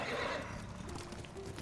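A horse in Ghost of Tsushima gives a short, loud whinny with hoof clip-clop beneath, up close and with no talking over it.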